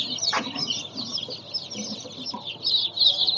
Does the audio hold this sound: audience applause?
no